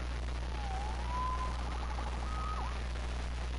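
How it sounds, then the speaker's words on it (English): Within the Marvel's Spider-Man video game, a police siren wails faintly at a distance, rising and falling in a couple of sweeping tones over a steady low background hum. "Saved by the siren."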